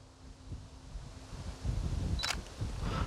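A single-lens reflex camera shutter fires once outdoors during autumn landscape photography, a sharp, close mechanical click standing out over a steady low rush of wind.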